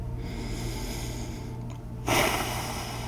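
Deep, noisy breaths close to the microphone, a long slow draw followed by a stronger, louder exhale over a steady low background hum.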